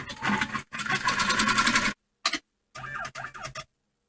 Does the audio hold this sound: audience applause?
no